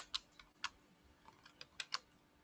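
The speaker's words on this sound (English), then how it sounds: "So go ahead and start typing in there." Typing on a computer keyboard while testing a React web application, with clear individual key clicks in an irregular rhythm and a few louder strikes, close and alone over faint background noise.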